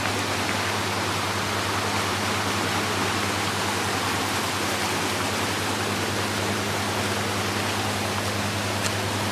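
Water flows steadily through a small creek beside a yard, a continuous even rush with no breaks and no voices.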